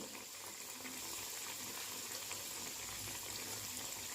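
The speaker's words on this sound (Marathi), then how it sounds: "गॅसची फ्लेम लो करून असेच आपण आपले वडे तळून घेणार आहे" Chana dal vadas deep-frying in oil over a low gas flame give off a steady, continuous bubbling hiss, faint and unbroken, with no talking.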